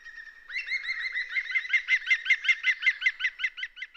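Green woodpeckers call at their nest hole in a tree trunk, giving a rapid, rhythmic series of high chattering notes that swell and fade over a few seconds, close and clear against silence.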